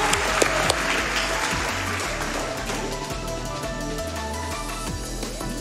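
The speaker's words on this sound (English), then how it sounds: "can we get a round of applause for Eucalyptus for actually putting this together?" Audience applause at Summer Games Done Quick 2023, a loud, sustained burst of clapping from a crowd that holds steady for several seconds, with no talking over it.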